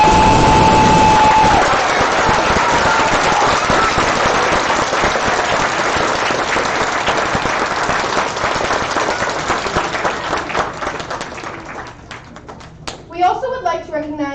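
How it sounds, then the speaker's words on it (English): Audience applause for volunteers at a 2019 City Shaper FIRST LEGO League robotics tournament closing ceremony: a loud, dense burst of clapping that gradually thins and fades over about twelve seconds, with voices near the end. "Let's give one more round of applause for our volunteers."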